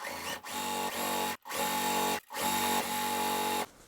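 A sewing machine stitches the pinned seam of a quilt block in three steady runs. Each run is a dense, even whir, and brief silent pauses separate them.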